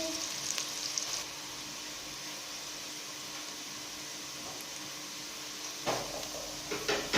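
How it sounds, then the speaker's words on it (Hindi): Low, steady sizzle of onions frying in a pan for bheja fry, with a few scraping stirs near the end. "प्याज हम थोड़ी देर फ्राई करेंगे।"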